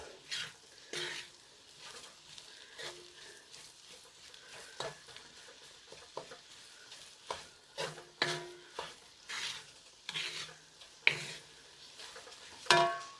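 Chicken fried rice being stirred in a pan: repeated scraping and clattering strokes of a utensil over a quiet sizzle, close up, irregular in rhythm and growing busier toward the end.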